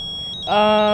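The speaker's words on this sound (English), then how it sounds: "Can you please make it stop?" A loud electronic beep sounds close by, a steady high-pitched buzzing tone sustained after a faint earlier chirp.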